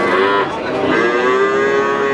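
Cattle low at the Blora cattle market in Indonesia, a loud, close, drawn-out moo layered with other animals' calls and a constant busy market din throughout.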